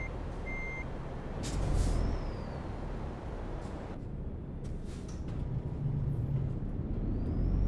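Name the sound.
Iveco truck with reversing beeps, Euro Truck Simulator 2 game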